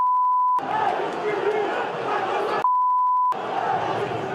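A football crowd at a Vasco match boos in a dense, roaring wash of voices, cut twice by a steady electronic beep tone that replaces the crowd noise.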